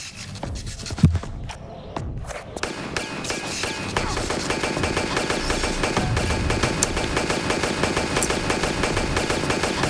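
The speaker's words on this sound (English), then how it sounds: "we're gonna shoot him a million times" Rapid, continuous gunfire from wide shot ammunition in a Tomb Raider video game, dense stuttering bursts that start after a few isolated shots and keep going loud and relentless to the end.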